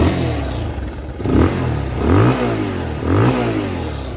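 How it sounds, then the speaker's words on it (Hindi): A beginner's motorcycle just started with the electric self-start button, its engine running and revving in a few rising surges, close and fairly loud with no talking. "ये हमारी बाइक हो गई स्टार्ट"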